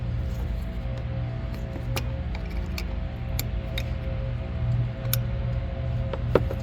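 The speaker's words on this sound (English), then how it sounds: "This piece here is clipping onto that clip, and you can hear it click." A plastic headlight bulb housing piece on a 2015 Chrysler 200 snapping onto its retaining clip, heard as a few sharp, faint clicks close up over a steady background hum, no talking.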